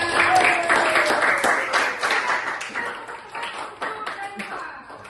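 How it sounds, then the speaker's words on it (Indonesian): Classroom applause for a student in a coding and artificial intelligence lesson, a loud burst of clapping that gradually thins out, with voices talking and cheering underneath. "tepuk tangan dulu untuk Daipa"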